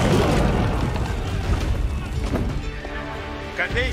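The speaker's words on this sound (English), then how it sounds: "Cannons! Blast it open!" Cannons blast a city wall during a siege battle in Age of Empires IV, with heavy booms and crashes over a dense, loud wash of battle noise while someone talks over it.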